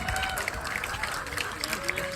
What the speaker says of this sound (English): Round of applause for Brenna McMillan.